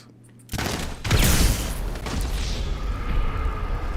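Grenades go off in GTA 5 Online: after a brief quiet, a heavy boom bursts in, then a second blast and a long rumbling roar with crackling debris, loud and close, with no talking.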